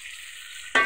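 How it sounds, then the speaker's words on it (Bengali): Meat and potato curry sautéing in a pan, a steady soft sizzle that jumps into a louder, brighter hiss near the end as liquid hits the hot pan. "তরকারিতে ঝোল দিয়ে দিলাম, কষাই নিচ্ছি সুন্দর করে।"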